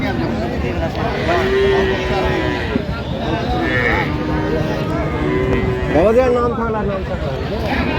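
Cattle at the Aftabganj livestock market, where cows and calves are sold, give low moos amid a steady din of crowd chatter and nearby voices.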